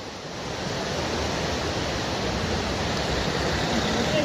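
Steady rushing water flows continuously, a broad even wash of noise that holds at a moderate level throughout, with no voices heard.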